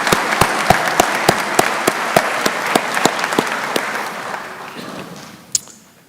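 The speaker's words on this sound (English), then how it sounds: "Give her a round of applause again." Applause from the audience at a technical college graduation ceremony, a broad clapping crowd with loud individual claps punctuating it, tapering off and thinning toward the end before a last stray clap.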